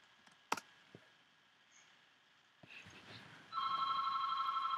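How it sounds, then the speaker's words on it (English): A telephone rings in a quiet room, a steady electronic ring tone starting partway through after a few soft clicks and taps. "There's a phone call ringing."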